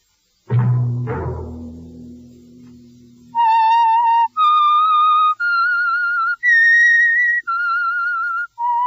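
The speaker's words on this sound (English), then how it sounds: "Let that whistle be your signal for the Whistler" The Whistler radio show's whistled theme signal: a short stretch of lower sound at the start, then a clear, loud whistled melody of about seven sustained pure notes stepping up and down, heard alone.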